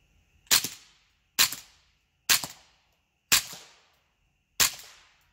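An integrally suppressed Ruger 77/22 rifle firing CCI standard velocity rounds into dirt: five sharp, fairly soft cracks about a second apart, each fading quickly in a quiet outdoor setting.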